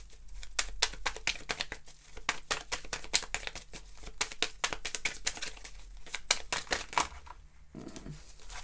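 Tarot cards are shuffled and drawn by hand, close up, with a rapid run of crisp papery flicks and riffles that pause briefly near the end.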